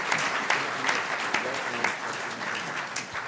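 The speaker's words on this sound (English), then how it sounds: "So I think there was applause there for you." Audience applause at a London skateboarding forum, a steady mid-level patter of many hands with a few sharper individual claps popping out at an even pace.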